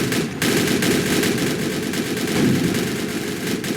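Anti-aircraft guns fire in the Roblox game General Quarters. The bursts are loud, rapid and continuous, a dense rattling roar that runs through the whole stretch after a brief break at the start, with no talking.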